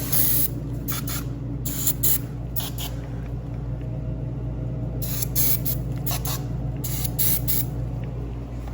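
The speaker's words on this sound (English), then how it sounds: "give the areas where you had your oil just a little shot of brake clean" Brake cleaner is sprayed onto the oily areas of a Yamaha Raptor 700 engine in several short bursts of loud hissing spray. The bursts come in two clusters over a steady low background rumble.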